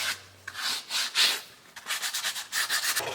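Hand sanding of cut wooden intarsia pieces, a series of close, raspy rubbing strokes in an uneven rhythm, some long and some short and quick, with no talking.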